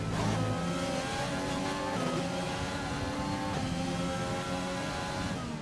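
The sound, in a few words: F1 race car engines in Xbox racing video game at Silverstone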